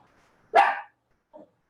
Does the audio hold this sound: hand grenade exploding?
no